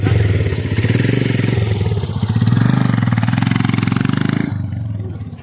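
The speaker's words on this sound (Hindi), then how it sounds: "ये बाइक वहाँ पर पार्क कर रहे हैं" A motorcycle engine idles close by with a steady, rapid thumping putter near Rohtang on the Manali route, then cuts off near the end.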